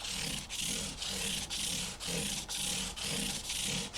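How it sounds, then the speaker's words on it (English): 220 and 320 grit sandpaper on a scrub block rubs back and forth over the frets and wood of a 1956 Gibson ES-125 guitar, a close rhythmic rasping stroke about twice a second, steady and alone. "Next I'll work on those crowns some more with my scrub block and 220 grit sandpaper"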